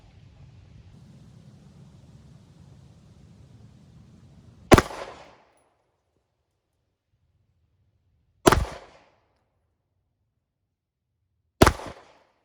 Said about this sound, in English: So let me go ahead and take those 3 shots, put me at 10 yards right there.